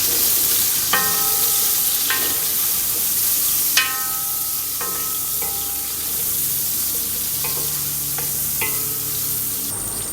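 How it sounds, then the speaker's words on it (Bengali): Onions frying in white oil with a little butter for a Chinese chicken sizzling dish, a steady close sizzle broken by sharp scraping clinks of a spatula against the pan, with no voices. "আমরা হালকা একটু সাদা তেল দিয়ে দিলাম, তারপর হালকা একটু বাটার দিয়ে দিলাম আমরা। তারপর এখানে আমরা পেঁয়াজগুলি দিয়ে দিলাম।"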